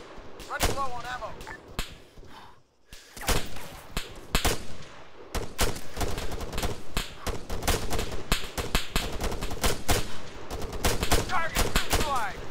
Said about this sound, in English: Carry, engage that machine gunner.